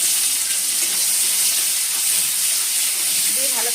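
Capsicum and spices frying in a hot pan produce a loud, steady hiss and sizzle that fills the whole stretch, close and constant, ending with a faint scrape.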